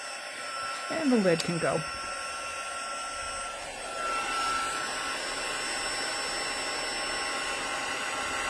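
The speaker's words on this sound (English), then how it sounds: "heat tool. It's going to get noisy for a second." A heat tool for heat embossing blows in a steady broadband whoosh that starts just after a short spoken line and continues evenly, fairly loud, to the end.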